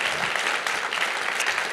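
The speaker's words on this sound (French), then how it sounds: "je vais vous demander d'applaudir de nouveau" Audience clapping for performers and a stage director at a university law night event in Paris, a brief, even burst of applause without any voice over it.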